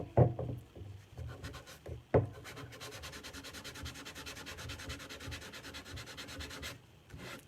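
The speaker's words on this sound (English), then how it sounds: "sanding on this edge is going to absolutely, perfectly cut my paper for me" A steady rhythmic scratchy rubbing of sandpaper against a paper edge for decoupage, close and continuous for several seconds after a few soft knocks, with no talking.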